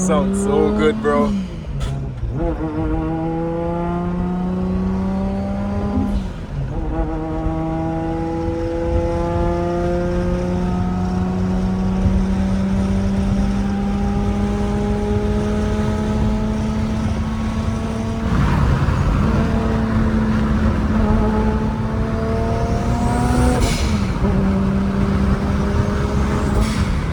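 Heavily built 1600whp Toyota Supra heard from inside, its engine revving and pulling hard through repeated rising gear sweeps with brief shift breaks, loud and continuous, while occupants talk and react over it.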